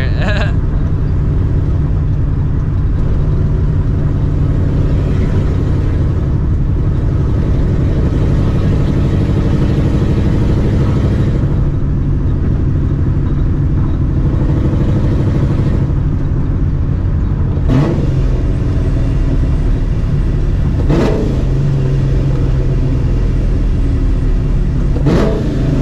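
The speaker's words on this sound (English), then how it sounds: "That rattling noise is like all the stuff in the trunk I have right now for the new owner." Supercharged 2004 Mustang GT driving with a steady engine drone and rising revs, while loose items in the trunk rattle and clatter intermittently underneath, with a few sharper knocks.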